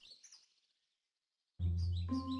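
A sparrow gives a few quick, bright chirps up front, then a pause before a louder, steadier burst of sound with a sustained tone.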